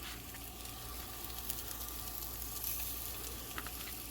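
Potato kebabs sizzling in a very hot pan on a stove, a steady quiet crackling fry with small pops scattered throughout and no talking.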